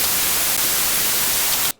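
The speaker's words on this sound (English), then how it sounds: "into this vibrant, powerful electricity." A designed electricity sound effect built from white noise: a dense, loud crackling hiss that holds steady for nearly two seconds, then cuts off abruptly.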